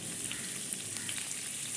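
Potatoes frying in a pan until reddish-brown, giving a steady, moderately quiet sizzle and crackle throughout with no talking.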